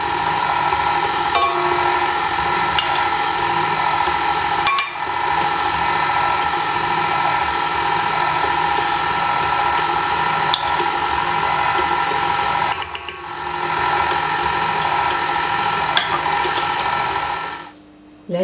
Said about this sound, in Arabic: بشويه بشويه كنضيف الزبده وانا كنعجن